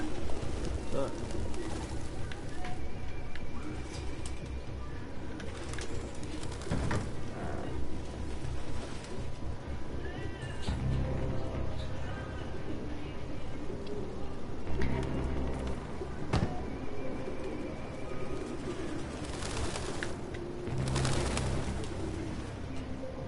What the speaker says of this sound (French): D'où le fait qu'il y ait autant de pigeons